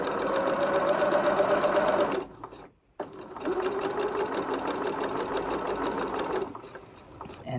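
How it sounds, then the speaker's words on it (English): Sewing machine stitching across fabric while mending a garment, a steady fast whir that runs for about two seconds, stops briefly, then resumes for another stretch before trailing off. "now I sew back to the other side"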